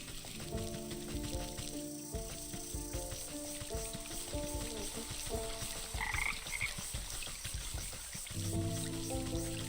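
Frogs croak steadily in a swamp in the video game Wytchwood, a dense layered chorus of overlapping calls running throughout with a constant wet background hiss and no talking.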